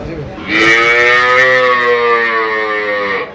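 A long, loud moo from a Sahiwal heifer at a cattle farm, rich harmonic tone, drawn out for nearly three seconds, close by with faint background noise.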